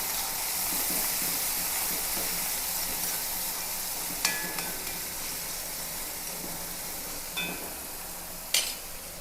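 Chopped onion, dried chilli, ginger, garlic and green chilli fry in a pan with a steady sizzling hiss, broken by a few sharp clinks of a utensil.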